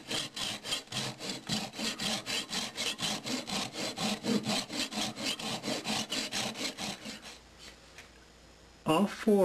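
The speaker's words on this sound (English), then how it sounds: "I need to make a 45 degree cut on this edge right here. And in order for me to do that, I need to use this miter box right here." A hand saw cuts wood in a miter box for a 45-degree cut, with steady back-and-forth rasping strokes, loud and close, before stopping near the end with a brief clatter.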